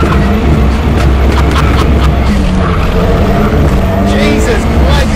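Straight-cut gearbox whine from a car pulling through first to fourth gears, a loud, continuous engine and transmission drone with rising tonal bands, steady throughout beneath occasional speech.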